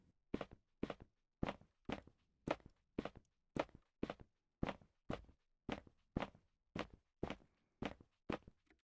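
Footstep sound effects laid onto an animation play as an evenly paced series of about seventeen distinct, crisp steps, each a short thud with a soft scuff, clean and isolated against silence.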